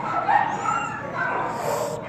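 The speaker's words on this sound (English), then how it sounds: "It's a beautiful fucking dog" At a gamebred American Pit Bull Terrier show in Colorado, a dog yips and whimpers in short high cries amid crowd murmur, fairly near and brief.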